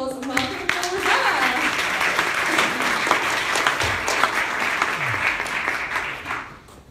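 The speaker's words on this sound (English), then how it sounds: "round of applause and welcome to her." A round of applause from the audience at a careers and wellbeing event, sustained and fairly loud throughout, with brief voices faintly under it before it fades at the end.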